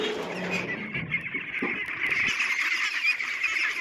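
Pekin ducks on a farm quacking and honking together as feed is brought, a loud, continuous chorus of calls close by, no talk.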